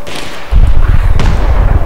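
Explosions and gunfire in the PC shooter Battlefield 3: a quiet lead-in, then from midway a loud, dense run of low booms and thuds with a sharp crack near the middle, continuing without pause.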